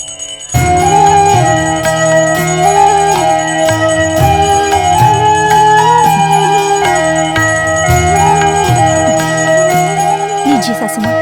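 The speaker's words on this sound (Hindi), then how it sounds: "वो घंटी मुझे दो।" A hand bell rings during a Hindu prayer offering, with a rapid run of metallic strikes and sustained ringing tones layered over steady harmonic sound, loud and close.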